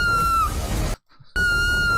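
A woman screams in a horror movie trailer: two loud, sustained, high-pitched cries split by a brief moment of near silence.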